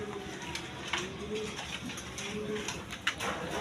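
Satin pigeons, a large fancy breed, coo repeatedly in a cage, low rolling calls recurring through the clip over background rustle and faint distant voices.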